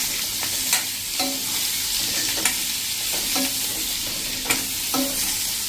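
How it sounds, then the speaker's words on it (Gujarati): Stuffed gunda being stirred through a sizzling Gujarati tempering, a steady frying hiss with repeated scraping strokes of the spoon against the pan, close by and free of talk. "અને એને આપણે આ રીતે વઘારમાં હલાવી લેશું."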